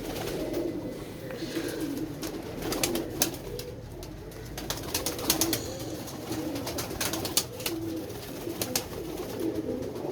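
A Lakha pigeon held close by, giving soft repeated cooing phrases under a constant background hiss, with sharp handling clicks and rustles scattered through, and no speech.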